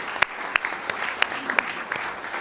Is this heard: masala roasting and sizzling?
no